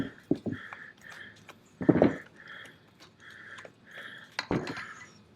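A spatula working through a whipped cream horseradish sauce with salt and Tabasco in a bowl, giving soft intermittent scrapes and a few louder knocks against the bowl, close and quiet with no talk.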